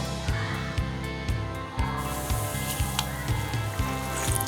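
Mangalore bun dough, a sweet banana puri, frying in hot oil over medium flame, a soft steady sizzle and bubbling close by with a low repeating hum behind it and no talk.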